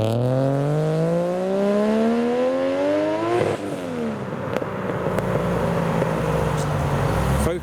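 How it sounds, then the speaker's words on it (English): A car with a twin-plate clutch pulls away under hard acceleration, engine note climbing steadily, dipping briefly at a gear change midway, then rising again, loud and close. "Sounds like a twin plate clutch"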